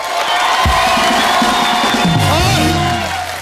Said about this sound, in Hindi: तो अब हो जाए खुल के तालियां।